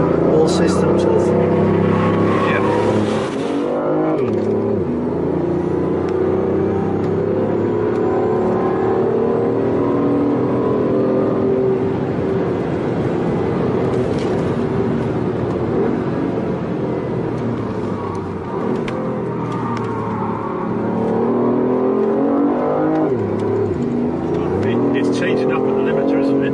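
A 2014 BMW i8 accelerating hard and shifting up at the rev limiter, its engine note climbing in long rising sweeps broken by sharp drops at each gear change, heard from inside with people talking over it.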